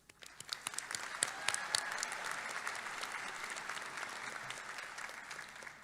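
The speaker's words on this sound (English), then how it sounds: "Please offer your applause to these honorees." An audience applauds honorees at a college spring commencement, scattered claps quickly building into a steady dense roar of clapping that continues evenly through the end.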